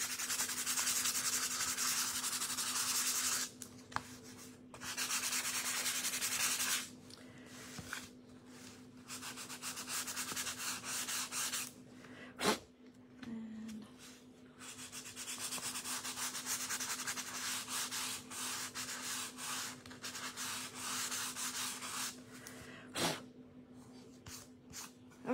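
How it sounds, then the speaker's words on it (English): A wooden bunny shelf sitter being sanded by hand, long steady rasping strokes broken by short pauses, close and fairly faint over a constant low hum. "sanding."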